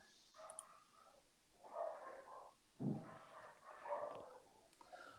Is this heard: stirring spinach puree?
no